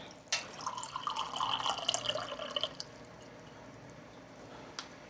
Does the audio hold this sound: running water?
yes